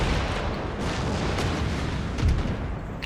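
Repeated naval cannon broadsides from sailing warships in Empire: Total War, a dense, continuous barrage of booming shots that keeps a loud, rumbling wash of gunfire going throughout.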